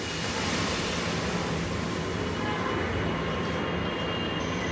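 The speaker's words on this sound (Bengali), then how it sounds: "এখন আমি এর মধ্যে দুই কাপ পানি দিয়ে দিব" Two cups of water are poured into a hot pan of freshly roasted cumin seeds, making a steady, loud, rushing hiss that continues throughout at close range.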